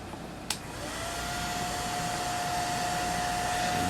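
A heat gun or hair dryer blows steadily as it heats a thin plastic flap for welding, a continuous close airy whoosh with a faint whine, preceded by a brief click near the start.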